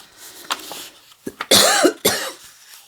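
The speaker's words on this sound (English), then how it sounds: "There we go with me coughing" A few close, harsh coughs from one person in quick succession, with a short throat-clearing sound at the start.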